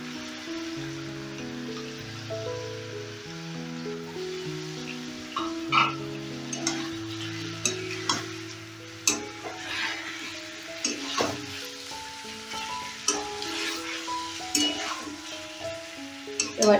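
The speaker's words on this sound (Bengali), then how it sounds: "এই দেখো, চিকেনটা একদম ভাজা ভাজা হয়ে গেছে। এবারে আমি আদা রসুনের পেস্টটা দিয়ে দেব।" Chicken fries in a pan as ginger garlic paste goes in, a soft sizzle under scattered stirring scrapes and clinks, with a tonal melody playing over it.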